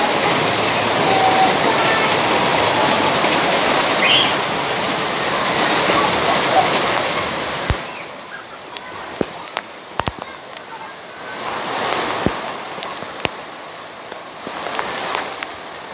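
Heavy rain pours down steadily as a dense, broadband hiss for the first half, then eases to a lighter patter with scattered sharp drips and knocks close by.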